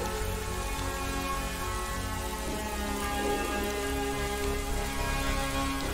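Steady rain patters continuously over a constant background hum, with no voices, a rendered downpour in the game World of Goo.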